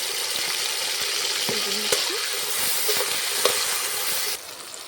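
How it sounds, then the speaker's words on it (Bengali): Eggplant pieces fry in hot oil in a pan with salt and turmeric, a loud continuous close sizzle with occasional light stirring knocks throughout. "এরপর বেগুনগুলো ভেজে নেব। লবণ আর হলুদটা দিয়ে দিলাম।"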